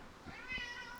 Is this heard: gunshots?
no